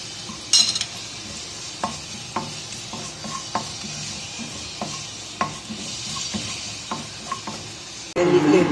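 Mustard seeds crackle and splutter in hot oil in a pan, a steady close sizzle broken by scattered sharp pops and spoon-against-pan clinks, ending in a louder burst of frying.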